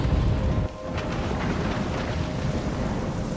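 Stormy weather in the game Life Is Strange: a sustained low roar of wind and rolling thunder, loud and rumbling at the start, then dropping to a steady, windy, turbulent wash with no talking.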